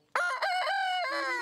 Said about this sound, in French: La Golaz noire, c'est vraiment la poule autochtone de la Bresse louhannaise.